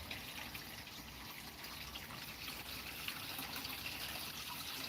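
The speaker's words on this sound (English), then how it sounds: "Obviously this is the pond running." Water runs steadily through a backyard koi pond with a windmill, making a soft, continuous trickle and splash that stays faint and even throughout.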